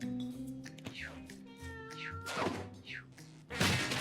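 Cartoon cat meows from the video game Mewgenics: several short, rising and falling meows come in a close, loud series, ending in a heavier thump, with little speech around them.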